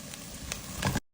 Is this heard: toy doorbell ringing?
no